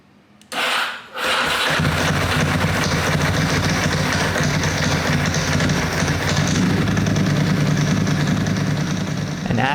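A Ducati 996 motorcycle engine, its throttle bodies out of balance, struggles to start and then settles into a steady, loud idle close by, with no voices over it.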